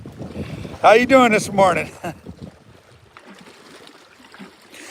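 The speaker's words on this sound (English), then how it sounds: "The wind's already almost blowed over the tripod several times" Wind buffets a microphone beside a snowy reservoir in Oregon, rumbling gusts under a man's brief spoken greeting, then settling into softer, fluttering wind noise.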